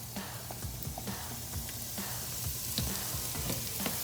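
Ginger and aromatics fry in a pot of peanut stew with a constant close sizzle and a few stirring knocks and scrapes.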